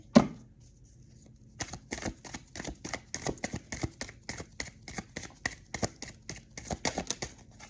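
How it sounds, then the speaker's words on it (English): Tarot cards shuffled close by: a rapid series of crisp riffling slaps and flicks, steady and fairly loud after a brief quiet start, with no talking over them. "I'm going to slide it in and shuffle again"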